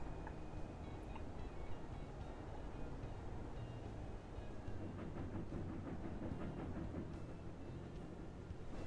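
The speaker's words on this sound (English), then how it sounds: "Unpause and train's moving again." A train rolls along in the railway management game Railroad Corporation 2, a steady low rumble with faint rhythmic clatter running continuously and evenly throughout, with no voices.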